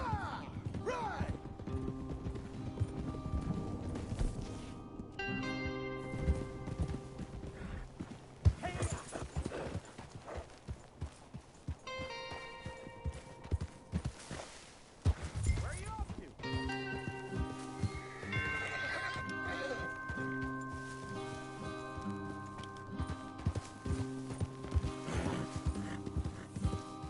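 Horses gallop in the video game Red Dead Redemption 2, a steady rapid clip-clop of hooves under music and voices, with an occasional whinny.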